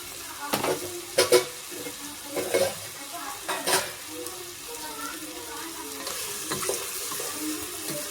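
Chicken pieces sizzle in hot oil in a pot for Kongu-style white chicken biryani, with close stirring clatters and scrapes over a steady frying hiss.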